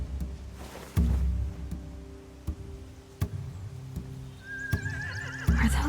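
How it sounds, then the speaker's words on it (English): Horses in a video game whinny loudly and repeatedly near a barn, with hooves clopping and knocking between the calls and a thin high tone rising near the end. "They have horses."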